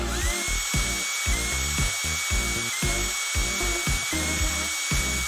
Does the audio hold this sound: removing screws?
yes